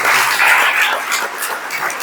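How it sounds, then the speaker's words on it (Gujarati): An audience at a college lecture for Swami Vivekananda's birth anniversary claps together, a dense, even wash of applause at close range that fades slightly toward the end, with no talk. "જોરદાર તાળી મારા દીકરા દીકરીઓ"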